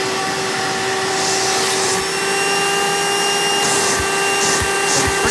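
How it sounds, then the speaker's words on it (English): A Hoover Dimension prototype direct air cleaner vacuum with a square hood runs steadily, a loud, close motor whine with a strong constant pitch and rushing airflow, plus a few brief rubbing and bumping sounds. "This is a direct air cleaner. It's known to produce more airflow than suction."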